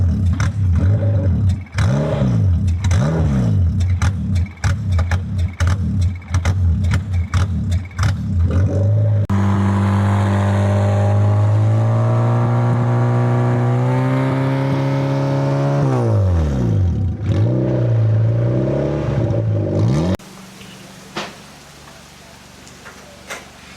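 Formula 4 race car engine on a test day, loud close revving with repeated sharp throttle blips, then sustained rising and falling revs, ending with a quieter idle.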